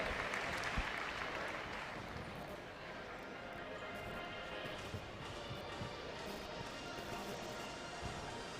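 A crowd applauds the winning junior and senior team at the Butcher's Classic competition, soft, distant clapping that swells at the start and settles into a steady fainter patter.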